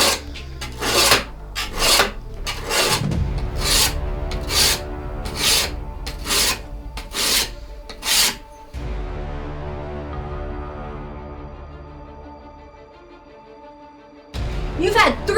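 A file rasps along a handmade knife blade in about nine quick, rhythmic strokes, then stops and leaves a quieter stretch before a final few strokes.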